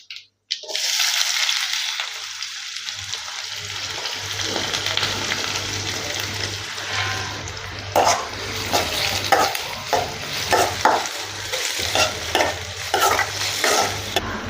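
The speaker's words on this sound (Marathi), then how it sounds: "ते चांगलं गरम झालं की आपण त्याच्यामध्ये कांदा टाकून घेऊया" Chopped onion frying in hot oil in a pan for a cluster bean and potato curry, with a steady close sizzle and repeated scraping, stirring clatter throughout.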